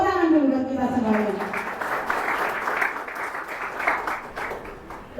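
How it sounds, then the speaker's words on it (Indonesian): Audience applause at a graduation thanksgiving ceremony for a community learning center, a steady spread of clapping over about five seconds with voices and talk mixed in. "Tepuk tangan dulu buat kita semuanya"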